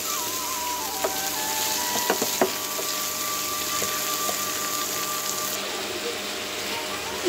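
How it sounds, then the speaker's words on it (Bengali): Pointed gourd (potol) fries in hot oil for a shutki bharta. A steady, moderately loud sizzle runs throughout, with a few small pops and clicks. "এখন পটলটা ভেজে নিব"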